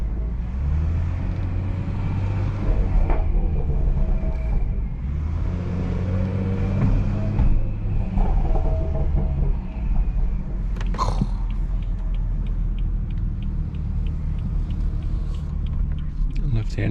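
A 500-horsepower B58-engined car accelerates on a road with a loud, droning exhaust rumble that builds and holds steady, while a driver talks over it.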